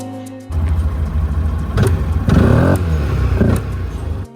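A 300cc Linhai quad bike engine revving under throttle, kicking in abruptly and rising through a couple of loud, close blips before settling back down.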